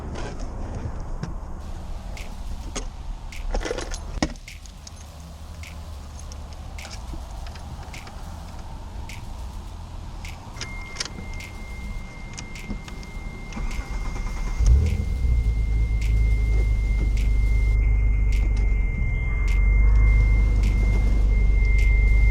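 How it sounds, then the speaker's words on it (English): A 1991 Mitsubishi 3000GT VR-4 engine cranks and catches with a burst, then settles into a steady low idle, accompanied by a thin electrical whine. "Now I'm going to start the car."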